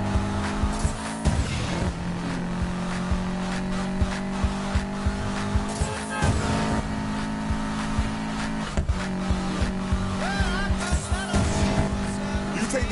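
Race cars in Need for Speed Payback speeding toward an airfield, with engines roaring steadily, tires squealing at intervals, and voices talking over the driving.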